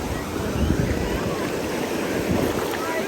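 Sea waves at Shrivardhan beach roar as a continuous broadband wash of surf, loud and close, with heavy wind buffeting the microphone throughout.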